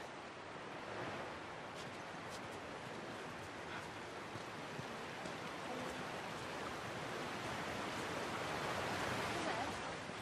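Steady rushing river water flows past a hydroelectric plant in The Last of Us, a dense, continuous broadband roar that holds even and unbroken throughout.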